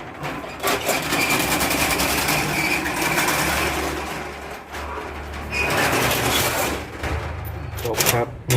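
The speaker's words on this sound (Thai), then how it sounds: "อันนี้เสียงจะดังหน่อยนะครับ ประตูนี้เก่าแล้ว" An old roller shutter door on an aging building rolls down, a loud continuous rattling clatter of metal slats with a low rumble, pausing briefly and resuming, while someone talks over it.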